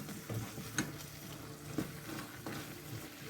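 Wooden spoon stirring and scraping the bottom of a pan of Tuscan bean stew, giving soft, quiet scrapes and a few light knocks against a gentle sizzle.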